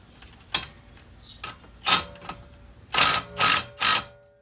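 Several sharp, spaced ratcheting clicks and metallic bursts come from a wrench on a big suspension bolt of a Mercedes CLS 63 AMG while lowering springs are fitted, loud and close, with quieter ticks between them.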